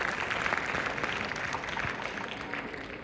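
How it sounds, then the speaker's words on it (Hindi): Audience applause fills a university auditorium in Hisar at a live event, a steady wash of many hands clapping for about three seconds without pause. "आपकी तालियां भी मुझे दरकार है।"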